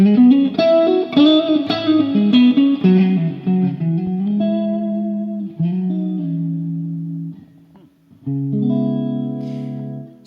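Electric guitar played through the clean channel of an amp with only reverb on, a melodic line of sustained notes and bends ringing out loud and close, with a short pause near the end before a final chord.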